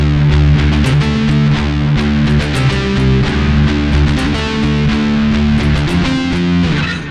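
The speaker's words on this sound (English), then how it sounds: "put a little bit of delay on it, so it has a little bit of echoey effect" Distorted electric guitar playing the riff of a song with delay added, loud and continuous, sharp repeated picked attacks trailing echoes that blur into one another.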